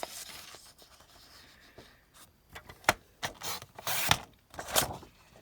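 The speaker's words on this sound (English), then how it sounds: "that's why I use my trimmer. And I'm going to cut the long way off first." A paper trimmer cuts an envelope remnant lengthwise. Soft scraping and sliding builds into several loud, abrupt rasping cutting strokes near the end, with no talk.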